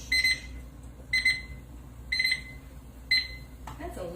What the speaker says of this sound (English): That's a loud timer, huh?